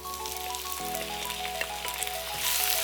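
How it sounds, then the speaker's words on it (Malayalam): Chopped tomatoes and onions sautéing in a pan for a tomato pachadi, giving a steady, close sizzle and crackle with faint stirring scrapes, rising slightly louder toward the end. "ഒന്ന് വഴറ്റാം വെന്ത് കിട്ടുന്നത് വരെ."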